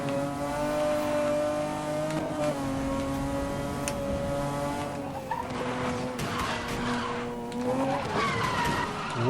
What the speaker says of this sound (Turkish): lastik ağladı